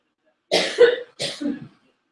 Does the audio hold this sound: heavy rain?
no